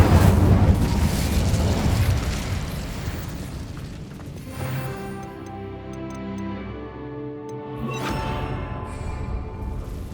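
Incendio fire spell cast in Hogwarts Legacy, a roaring whoosh of flame that fades into ringing, chiming tones and a low hum, then a second brief burst near the end.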